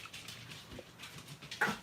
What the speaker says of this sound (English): I've got a dog that every time he takes a drink, he chokes himself.